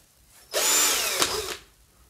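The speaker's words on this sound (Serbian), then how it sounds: "Angel Bušilica, odlična sprava, a za malo para" An electric drill whirs at close range in one steady, loud burst lasting about a second, with a brief pitch shift near the end before it stops.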